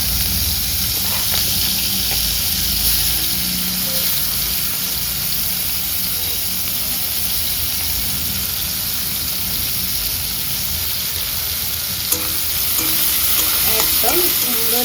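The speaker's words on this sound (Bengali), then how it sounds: "এবার দিয়ে দেবো গুগলিগুলো, ভালো করে কিন্তু ভেজে নেবো" Freshwater snails frying in oil in a pan after potatoes have been fried, making a loud, continuous, dense sizzle with occasional scraping from stirring.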